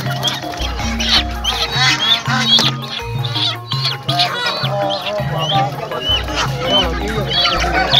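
Free-range chickens and chicks at a market cluck and cheep constantly in a busy, noisy setting, with many birds calling over one another close by.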